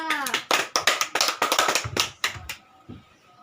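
A group of children in a first-grade classroom clapping together in a quick, uneven burst for a few seconds, then the applause stops abruptly.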